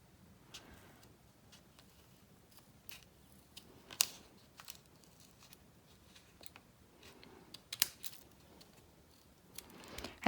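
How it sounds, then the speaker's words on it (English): Scissors snip into the corner of a single sheet of paper while shaping a small panda notebook, giving soft, quiet, irregular cuts with a few sharper clicks, close by and with no talking. "I'm just going to shape the top here by cutting into the corner"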